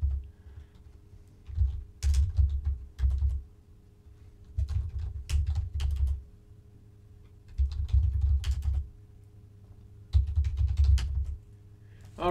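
Bursts of rapid typing on a computer keyboard, clattering in short uneven runs separated by pauses, close and fairly clear over a faint background hum.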